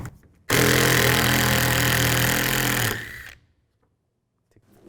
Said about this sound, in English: We want to remove this bolt. Use a 13mm socket.